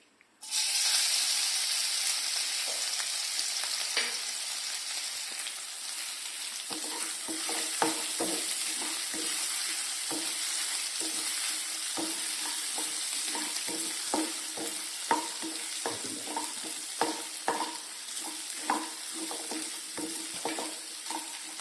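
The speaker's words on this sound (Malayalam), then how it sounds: "എണ്ണ ചൂടായി വരുമ്പോൾ അതിലേക്ക് ഇഞ്ചി വെളുത്തുള്ളി പേസ്റ്റ് ചേർത്തി കൊടുക്കുക" Ginger garlic paste hits hot coconut oil with a sudden loud burst, settling into a steady hissing fry, then scraping stirs and scattered spatters and pops build up over the sizzle.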